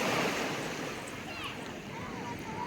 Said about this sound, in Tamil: அழகிய கடற்கரை ராம் சேத்து